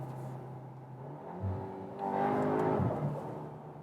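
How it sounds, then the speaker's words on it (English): Volkswagen Arteon R engine in race mode, a low rumble that swells into a brief rev midway, heard from inside the cabin, moderately quiet with no voices. "So here's engine sound. You can set it to race in the individual mode"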